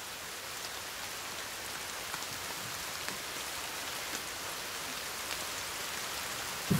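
Steady rain in the survival game The Forest, a constant, even hiss of falling drops with faint patter, loud and unbroken throughout.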